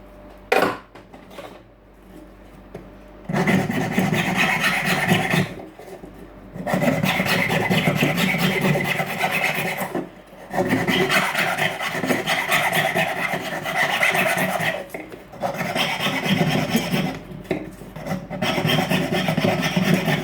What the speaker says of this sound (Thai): การตะไบพิมพ์